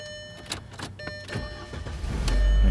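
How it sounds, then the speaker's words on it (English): A VW car engine starts after a few clicks and clunks, the starter and motor rising into a steady low rumble near the end, close by. "Car starts."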